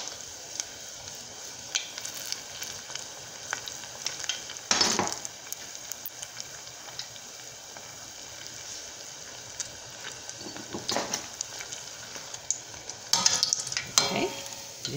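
Cheese sticks fry in very hot grease with a steady, close crackling sizzle throughout, broken by a few louder bursts of spitting and scraping near the middle and end.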